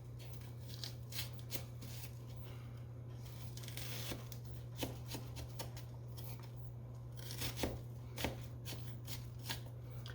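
Knife slicing an onion on a cutting board for Italian pasta salad, a series of soft irregular cuts and crisp taps, quiet and close over a low steady hum.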